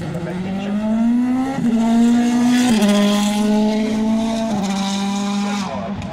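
A WRC rally car at a stage near Cholmondeley Castle braking into a corner and powering through, its engine note loud and close, rising and shifting in steps as it revs between gears.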